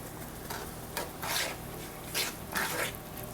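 A spoon stirs a Cajun seafood boil mixture with lemon and sugar in a pan, making soft repeated scraping and wet swishing strokes over a low sizzle, close and fairly quiet, with no voices.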